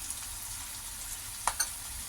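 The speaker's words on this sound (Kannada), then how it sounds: "ಈಗ ಇದನ್ನು ಫ್ರೈ ಮಾಡ್ಕೊಳ್ಳೋಣ ಈಗ ಈರುಳ್ಳಿ ಎಲ್ಲ ಸ್ವಲ್ಪ ಫ್ರೈ ಆಗಲಿ" Green chillies and onions fry in a pan for poha, making a steady, close sizzle with a couple of brief stirring clinks and no voices.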